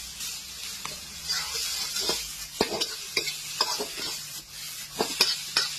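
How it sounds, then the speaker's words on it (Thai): Rice stir-fried in a carbon steel wok: a steady sizzle punctuated by repeated scraping clanks of a spatula against the pan, close and fairly quiet. "นี่คือเสียงจากกระทะเหล็กเผาครับ"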